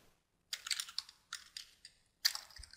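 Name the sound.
typing on a computer keyboard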